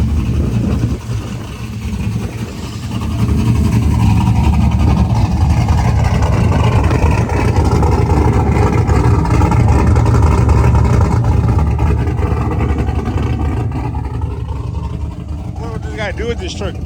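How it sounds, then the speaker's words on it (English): A truck engine with a TSP stage 2 cam idles with a loud, steady rumble, swelling slightly in the middle, while people talk over it. "Truck sounds good."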